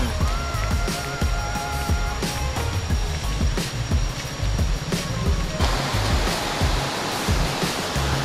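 Fast-flowing river rapids at a tubing start point in the Meratus area roar as a loud, continuous rush of churning water, steady and close throughout.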